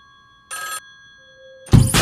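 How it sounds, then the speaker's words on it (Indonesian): A mobile phone rings in a short, bright burst during a tense crime-thriller scene, followed by a thin steady tone and a sudden loud hit near the end; no one speaks. "tiba-tiba telepon milik Carson berdering"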